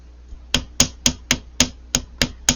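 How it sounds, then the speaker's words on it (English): A hammer lightly taps wire during wire crafting, eight crisp, evenly spaced strikes in a steady rhythm, close and clear with no talking. "hammering is one of my favorite things to do with wire crafting"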